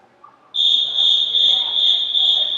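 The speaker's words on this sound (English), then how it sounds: "Whistle has blown" A swim meet official blows a single long, piercing whistle that holds steady for about two seconds to start a mixed 15-and-over 100 freestyle race, ringing loud and close in the pool hall.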